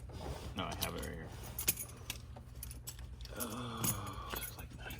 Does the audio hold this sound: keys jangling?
yes